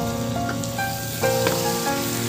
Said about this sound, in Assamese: মই 3-4 বাৰমান ঢাকোন লগাই ভাজি আছোঁ চিকেনখিনি